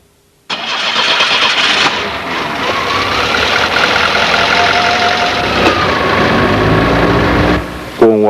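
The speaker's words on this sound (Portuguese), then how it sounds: "Agora, é só dar a partida no motor e aguardar que ele atinja a temperatura normal de" A Volkswagen gasoline engine with a 2E carburetor cranks and catches, then settles into a steady, fairly loud idle for several seconds before cutting off near the end.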